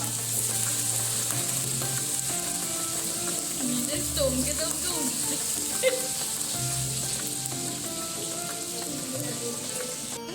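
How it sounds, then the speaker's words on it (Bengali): The last batch of fish frying in a pan at a Ranna Puja festival cooking gathering gives a steady, moderate sizzle throughout, with a few faint voices and low background hum. "মাছ ভাজা সব কমপ্লিট হয়ে যাচ্ছে এটা হচ্ছে লাস্ট ব্যাচ চলছে এখন"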